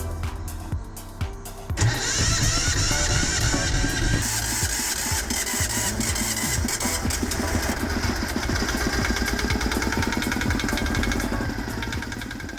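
A repaired boat engine cranks briefly, catches, and then runs loud and close with a steady, rough mechanical chug that holds for the rest of the clip.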